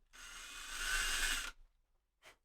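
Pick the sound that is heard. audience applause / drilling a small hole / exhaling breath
drilling a small hole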